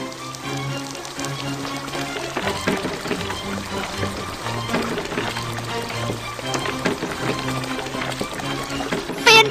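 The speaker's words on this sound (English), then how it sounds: "Drag the hose to fill the pool with water." In a children's cartoon, a hose pours a steady stream of water into a pool, rushing continuously under background music for several seconds.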